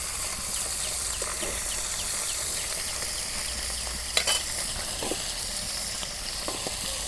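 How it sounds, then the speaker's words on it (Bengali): Small pool barb (puti) fish frying in hot oil in a pan for a village-style meal, a steady close sizzle with occasional stirring scrapes and soft clatters, birds faintly in the background. "এই দেখো অনেক সুন্দর করে আমি মাছগুলো ভাইজা নিতেছি"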